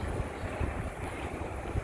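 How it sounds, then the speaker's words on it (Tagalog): Gusty wind buffets the microphone with a low, rumbling roar, faint and uneven, with no voices present. "Mahangin talaga."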